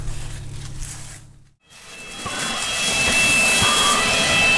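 Allis-Chalmers M dozer engine idling after sitting unused for years, starting with a low tone that cuts out briefly, then a steady, louder broadband rumble with rising hiss and a high whine, close by and alone.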